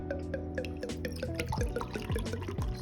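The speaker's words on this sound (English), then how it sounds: "So I'll pour a little into this beaker." Liquid poured from a bottle into a glass beaker during a chemistry titration practical, heard as a close trickle with small drips and splashes that shifts in pitch as the beaker fills, with no talking.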